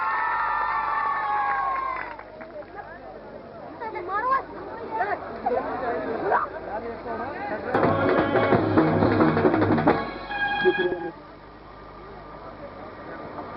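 A crowd at a Punjabi stage event bursts into applause and cheering with shouts, swelling loudly in the middle after a stretch of amplified talk, then dropping back.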